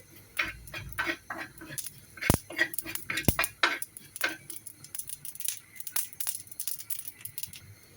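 Whole cumin seeds being stirred in a dry pan as they roast, a run of light scraping and scratchy ticks with a few sharper utensil knocks against the metal, close and fairly quiet, with no voices.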